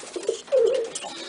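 Pigeon coos from a loft where young birds are being fed, a few soft low calls close by, one longer warbling coo in the middle, with faint background noise and no talk.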